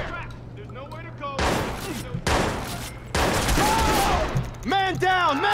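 Gunfire in the video game Watch Dogs, with several loud close bursts of rapid shots cutting through frantic shouted voices, separated by brief pauses.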